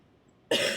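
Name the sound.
cough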